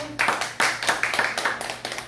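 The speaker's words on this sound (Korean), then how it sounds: "큰 박수 받으세요" A small audience at a cooking class claps to welcome a guest, a brief run of close, uneven handclaps over a quiet room.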